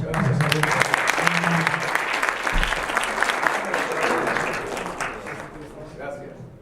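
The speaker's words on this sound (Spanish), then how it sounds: "el señor Alberto Achardi, un aplauso" An audience applauds a conference speaker at the closing talk of a 2019 seminar, steady sustained clapping from a sizeable crowd throughout, with a voice briefly speaking over it at the start.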